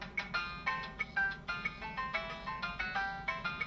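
A mobile phone ringtone rings out during a job interview in an office, playing a repeating bright electronic melody of short tonal pulses, clear and steady, with no voices over it.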